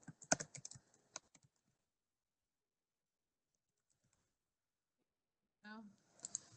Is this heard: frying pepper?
no